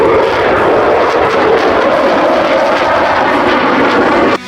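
Eurofighter Typhoon combat jet engine roaring loudly and steadily as one continuous broadband rush, dropping off sharply at the very end.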